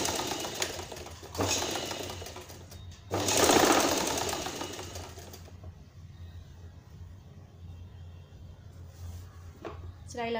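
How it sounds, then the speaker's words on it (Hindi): A sewing machine makes short bursts of stitching as a salwar seam is joined to the waistband. Quick buzzing runs stop and start under a low steady hum, with the loudest burst near the middle. "सिलाई लगा देंगे इसमें।"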